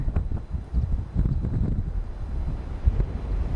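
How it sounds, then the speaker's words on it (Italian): Heavy, steady wind buffeting the microphone on coastal dunes, with low rumbling gusts and no voices. "C'è parecchio vento."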